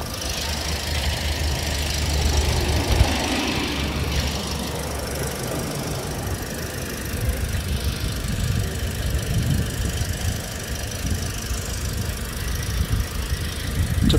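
A car engine idles roughly with a faulty oxygen sensor, a steady, uneven rumble with knocking and a faint squeal running continuously at close range.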